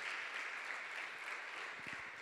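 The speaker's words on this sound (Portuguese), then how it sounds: "Pode aplaudir o Senhor." Faint, steady applause from a church congregation, a soft even wash of clapping heard from a distance throughout, with no talk over it.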